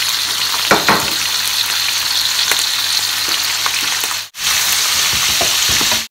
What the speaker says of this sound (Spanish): Ahora vamos a echar los ajos, que se doren un poquito. Y el chorizo, para que el aceite coja un poquito el sabor del chorizo.